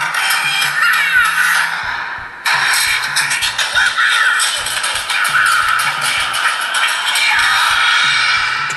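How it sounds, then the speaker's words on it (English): A Lenovo S660 phone speaker plays back a video soundtrack, thin and bright, with a brief cut partway through. "let's check out actually how the sound output of the speaker is"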